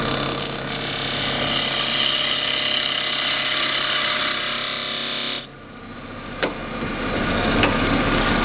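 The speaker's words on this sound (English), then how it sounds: "Drop the handle a bit so I get a peeling cut around here." A wood lathe spinning a wooden box as a gouge takes a peeling cut, a loud steady rasping hiss of shaving that stops abruptly partway through, leaving the quieter motor hum and a couple of light knocks.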